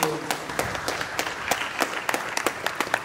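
Sparse, fairly quiet applause from guests at a luncheon in the 15th arrondissement town hall, with separate claps spaced out unevenly rather than blending into a dense roar.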